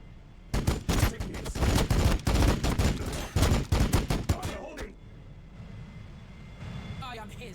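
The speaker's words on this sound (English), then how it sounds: "So I guess let's just do blessed ammo and shoot into here." Dense, rapid bursts of gunfire from the video game Warhammer 40000 Battlesector hammer loudly for about four seconds, then drop away into a quieter background with some faint game sounds.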